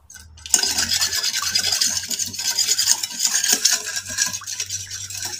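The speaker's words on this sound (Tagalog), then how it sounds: "I-mix maigi para matunaw yung sugar." A spoon stirs sugar to dissolve it into a salad dressing for a Filipino ensalada, giving a continuous, close scraping and swishing against the bowl with no talk over it.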